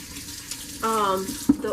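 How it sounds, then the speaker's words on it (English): Hands being washed under a running kitchen tap while baking conchas, a brief wash of water with harmonic tones midway and a small knock near the end; moderately close and fairly quiet. "I'm gonna wash my hands"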